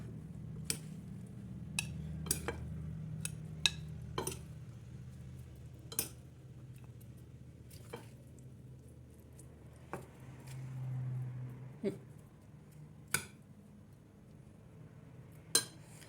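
Braised meat kavurma is served onto a plate with cutlery, giving a series of quiet, sharp clinks and taps at uneven intervals over a low background hum.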